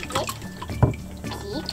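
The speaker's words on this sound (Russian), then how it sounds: "Водичка брызгается." Water splashing and dripping in a bathtub while a small child is bathed and plays with toys, short sloshes and drips heard close by beneath intermittent talking.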